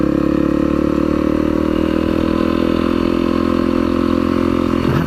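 Honda CRF250L motorcycle ridden along a slippery green lane, its engine a loud, steady, close drone with continuous low harmonics and no pauses from start to finish.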